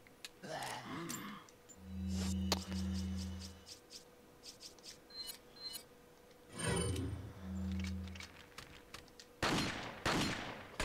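Gunfire rings out in Resident Evil 4 HD inside Salazar's castle, with a sharp shot followed by sustained low rumbling bursts and scattered impacts, plus a louder crashing burst near the end; a voice is faintly audible at times.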